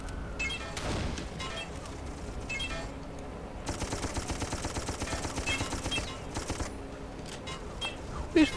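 Gunfire from the video game Darkest of Days rattles in bursts of rapid automatic shots with occasional heavier blasts, fairly loud and sustained over a busy battlefield din.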